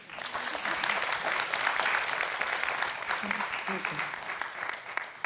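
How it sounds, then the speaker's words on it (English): An audience at a World Bank women of color forum applauds the presenters with steady, dense clapping throughout, with a voice briefly audible beneath it. "A round of applause,"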